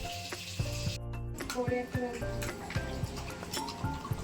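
Mashed pointed gourd being stirred in a hot wok for a Bangladeshi bharta, a soft sizzle with repeated scraping thuds of a spatula, while someone talks over it.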